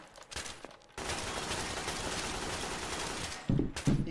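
Sustained rapid automatic gunfire from a Trouble in Terrorist Town round, a dense fusillade running about two and a half seconds after a short opening burst, followed by two louder closer shots.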